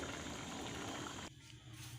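Water drained off boiled rice for a Mutanjan sweet rice dish: a loud, rushing gush of pouring liquid runs steadily, then cuts off abruptly into a quieter trickle.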